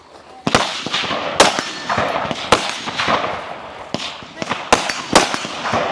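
Rifle shots ring out at steel targets during a regional shooting match stage fired through barricade ports about 57 yards out. A rapid string of sharp, loud cracks sounds at irregular intervals, with people talking underneath.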